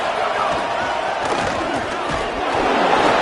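A college football stadium crowd roars and cheers continuously at full volume during a big third-down play, a dense wall of voices with no pause.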